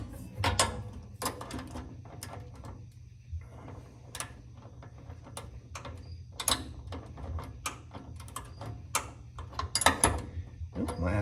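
A hand tool tightening an exhaust hanger bolt under a car, next to a brake line: intermittent close ratcheting clicks and metallic knocks in irregular bursts, with short pauses between them.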